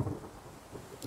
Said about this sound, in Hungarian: Már egyből esik az eső?